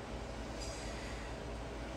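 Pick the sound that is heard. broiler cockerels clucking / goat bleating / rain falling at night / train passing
train passing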